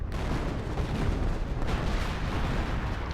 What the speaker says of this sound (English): you can hear the artillery incoming